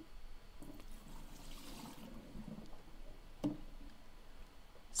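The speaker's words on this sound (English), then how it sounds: "pour the water out and just clean the inside" Water poured out of the first-stage housing of a three-stage water filter system, a soft, quiet splashing trickle running steadily for several seconds with a brief louder splash near the end.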